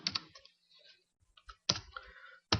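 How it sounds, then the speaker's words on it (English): Mouse clicks on a dropdown list in a web page under Selenium WebDriver testing, three or four sharp close clicks in quick succession with short gaps, alone in a quiet room. "I have to click on it."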